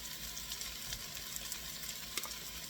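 Browning beef short ribs sizzle steadily in a pan as tomato paste is stirred through them, a soft continuous crackle with a few faint scraping ticks.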